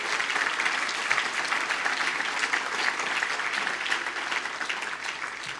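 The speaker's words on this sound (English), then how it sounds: "How about a round of applause for Citi?" An audience at the 2013 Easter Seals Advocacy Awards applauds sponsor Citi in steady, dense clapping that fills the room and holds at an even level throughout, with no voices over it.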